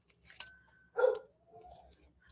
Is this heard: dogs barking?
yes